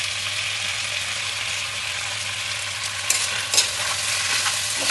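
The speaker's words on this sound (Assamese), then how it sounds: "মছলা দি এইখিনি লৰাই দিওঁ আকৌ" Chicken curry with spices fries in a pan, giving a steady close sizzle, with a couple of sharp scrapes from stirring near the end and no talking.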